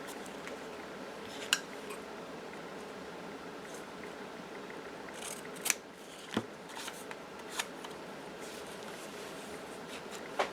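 Scissors cut a paper scrap in half for a junk journal, making a few soft, sparse snips over quiet room noise, with no talking.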